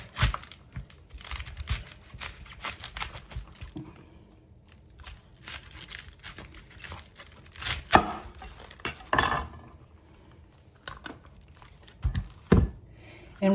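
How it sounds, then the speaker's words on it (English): A knife chops and slices through a halved cabbage with its core removed, cutting it fine on a board, giving irregular crunchy cuts with crinkling leaf rustles, close and fairly quiet. "And we're going to cut the cabbage kind of fine because we want it to be tender."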